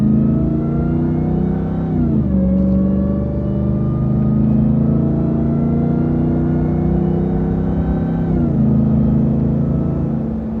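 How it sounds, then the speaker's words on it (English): Car with a 702 horsepower supercharged engine pulls hard from close by, loud rising engine note with a whining supercharger, two gear changes breaking the climb. "Let's see what this 702 horsepower can do. Here comes the supercharger."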